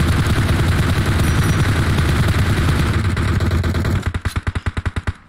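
Dense, rapid automatic gunfire from a shooter video game roars continuously for four seconds, then breaks into a string of distinct, evenly spaced single shots near the end.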